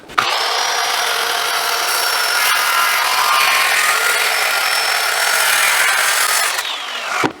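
Power saw cutting through a sanded wooden batten board for board-and-batten trim, a loud close continuous whining cut lasting about seven seconds before winding down, with no talk.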